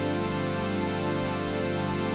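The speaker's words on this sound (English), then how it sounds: "Then we get the proper sound tone using a sawtooth wave shape." Sustained synth chords played with a bright, buzzy sawtooth wave tone ring as a dense, unbroken drone at an even level throughout.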